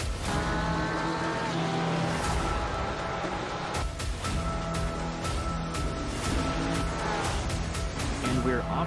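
Race cars revving in an auto racing league event at Indianapolis, engine tones holding steady and loud throughout while people talk over them.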